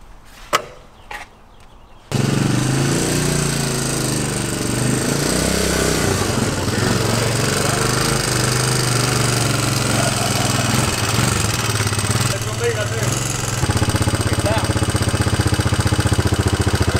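A rare three-wheeler being ridden down a ramp: after a few sharp clicks and knocks, its engine catches and runs loud and steady, a rough close drone that holds for about fifteen seconds.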